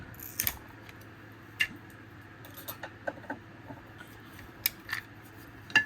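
Packing tape peeled off a DeWalt 6Ah Flexvolt battery pack during repair, heard as a faint series of short crackling rips and ticks spread across a quiet room, with a few sharper pulls standing out.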